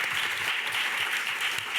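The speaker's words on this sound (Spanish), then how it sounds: "Un aplauso" A room of listeners at a round-table talk on indie games and digital art applauds, giving a soft, continuous wash of clapping at fairly low volume.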